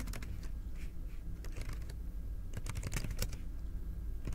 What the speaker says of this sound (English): I opened a new Google tab and I'm just going to type in um, environmental